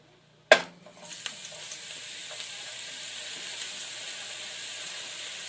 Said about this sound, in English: And then I'm just going to throw my Zoodles right in there.